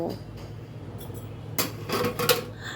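A lid is set onto a cooking pot of rice with a short metallic clatter and clink, close and brief, after a quiet stretch of low kitchen background.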